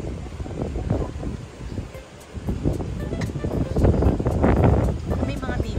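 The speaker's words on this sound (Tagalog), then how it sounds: "Sobrang hangin." Strong wind gusts buffet the microphone outdoors beside a hotel pool, with a rushing, rumbling roar that swells and eases, and a voice speaks briefly under it.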